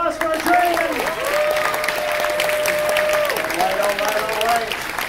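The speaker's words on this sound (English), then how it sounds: "big round of applause for our Journeyman" A crowd applauds a cosplay contest category at a convention, with steady, dense clapping running the whole time while an amplified voice talks over it.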